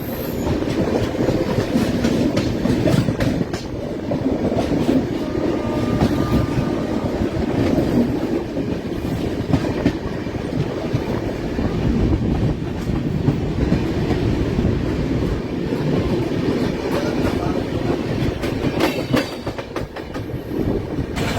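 The Ahmedabad–Gorakhpur Express runs at speed at night, a loud, unbroken rumble with rhythmic clickety-clack of wheels over rail joints and faint squeals, no voices.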